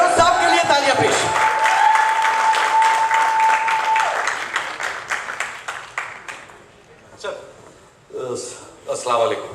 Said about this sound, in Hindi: बहरोज साहब के लिए तालियां प्लीज